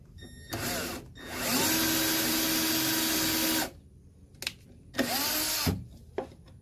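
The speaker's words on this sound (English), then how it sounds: "And I take the drill" Power drill boring through a wooden drawer face on an upcycled nightstand: a short whine, a long sustained drilling run of about two seconds, then a few brief bursts and taps, close and loud with quiet gaps between.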